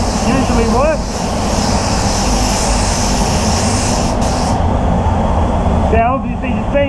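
A spray gun lays the final colour coat on a BMW 323i, giving a loud, steady, continuous hiss. A voice breaks through briefly near the start and again near the end.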